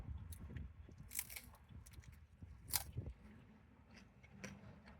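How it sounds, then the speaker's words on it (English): Someone bites and chews a Del Taco crunchy taco close to the mic, with several crisp crunches scattered through a soft, noisy background and no talking. "now I have a little crunchy taco"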